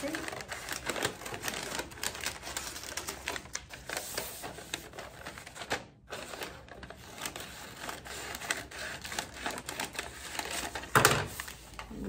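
Scissors trim the ends of wrapping paper on a Christmas gift, giving a run of crisp snipping and crinkling paper sounds under a person talking.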